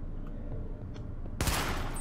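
Gunfire in The Division during a Russian Consulate attack, a sudden loud burst of rapid shots erupting after a quieter stretch and continuing to the end.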